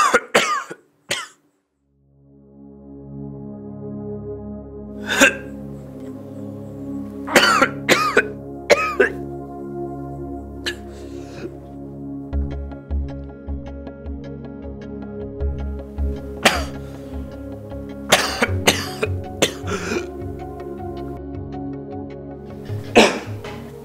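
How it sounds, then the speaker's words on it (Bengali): A person coughs in several sharp, separate bursts spread unevenly over time, loud and near, over a steady low tonal background hum. "আপনার কাশিটা কতদিন যাবত"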